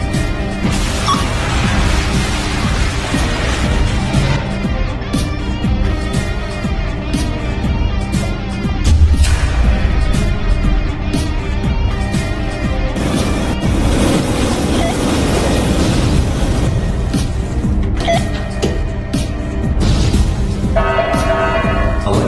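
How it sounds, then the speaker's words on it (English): A reactor explosion event in a Roblox facility game: a loud, sustained roaring rumble with crashing, surf-like turbulence that swells around the middle, no voices over it. "Explosion event."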